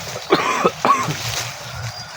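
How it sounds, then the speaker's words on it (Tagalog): Two or three short, harsh coughs close by, followed by low background murmur. "Inuubo yung mga kasama natin."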